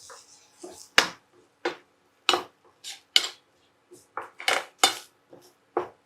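Millet rava upma being stirred in a pan after turmeric is added, a utensil striking the metal in about a dozen separate sharp clinks and scrapes at an uneven pace, close and fairly loud, with no talking.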